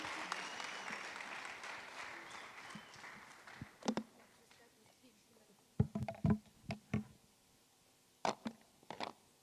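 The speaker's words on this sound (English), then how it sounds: "Let's give a round of applause." Scattered audience applause at a youth empowerment event in Mpumalanga, heard as a thin wash of clapping at first, then a few sharp, separate claps and brief bursts, all fairly quiet.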